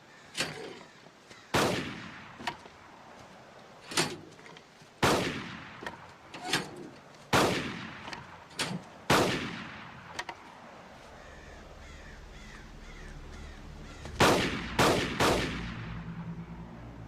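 Gunshots crack out during a shooting training scenario: a dozen sharp, separate reports at irregular intervals, then a quick burst of three near the end, loud and echoing.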